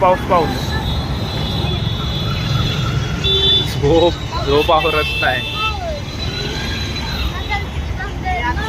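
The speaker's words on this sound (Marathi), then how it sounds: "एवढं ट्रॅफिक." Busy road traffic in Bhopal rumbles past while several car horns honk in short and longer blasts, loud and close, as people talk over the noise.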